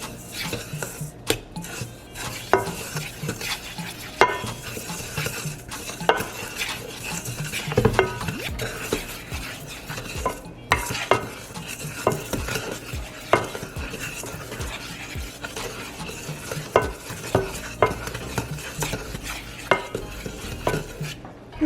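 Dry ingredients for Nigerian holiday spice puff puff are stirred together in a bowl, a steady scraping and rustling with repeated light clinks of utensil against the bowl across the whole stretch, close and without talk.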